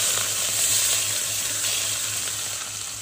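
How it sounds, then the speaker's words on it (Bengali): Whole cumin seeds, bay leaves and raw onion sizzling in hot oil, a loud, steady, dense frying hiss heard close up with no talking. "তো প্রথমে দিয়ে দিচ্ছি আমরা তেলে গোটা জিরে, তারপরে দিচ্ছি আমরা কিছু তেজপাতা আর কাঁচা পেঁয়াজ একসাথে দিয়ে দিচ্ছি।"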